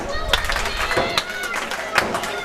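A wrestling crowd claps in scattered rhythmic bursts in an arena, sharp hand claps standing out against a constant murmur of the crowd. A commentator talks over it.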